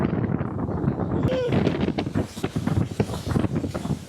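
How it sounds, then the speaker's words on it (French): Strong gusting wind by a lake in Kafountine, Senegal roars hard against the microphone in heavy, continuous buffeting, with a brief whistle-like tone and a voice speaking over it. "Oh là là, quel vent, quel vent"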